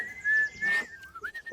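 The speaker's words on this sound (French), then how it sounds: "tu siffles très bien" A clear, high whistled tune with a few sustained notes and short slides, close and fairly quiet, with no talking.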